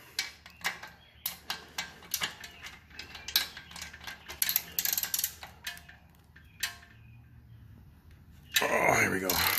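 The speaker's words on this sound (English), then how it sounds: "we're going to go ahead and remove this bolt" Ratcheting wrench loosening a bolt on the rear hub of a KBO Breeze e-bike, with repeated close clicks and metallic clatter in bursts, followed by a louder steady mechanical rattle near the end; talk is heard in places.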